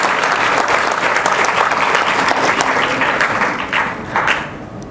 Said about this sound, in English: Big round of applause, at least for your enthusiasm